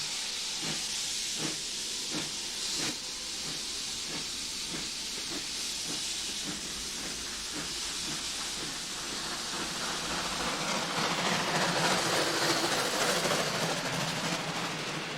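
Rhythmic chuffing of a steam locomotive on the Severn Valley line with hissing steam, the beats steady at first and then giving way to a louder rushing hiss.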